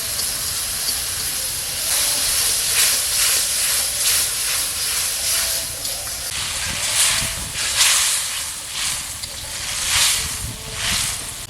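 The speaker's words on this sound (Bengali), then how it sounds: "এবার আমি জল ঢেলে দেবো" Water hits a pan of fried, melting tomato and sets off a loud, steady steam hiss that swells and pulses for the whole stretch, with no voices over it.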